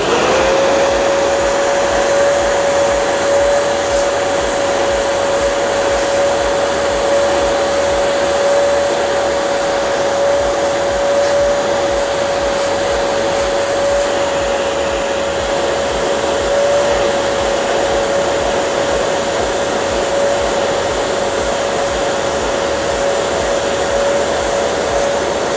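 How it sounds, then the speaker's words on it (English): A vacuum cleaner works over the core of an ERV (energy recovery ventilator), a loud, steady drone with a constant whine holding unchanged throughout, with no talking. "We're gonna go ahead and vacuum this one."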